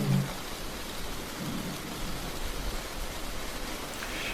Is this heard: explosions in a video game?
no